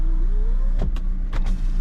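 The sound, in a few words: power windows operating on a Proton Persona car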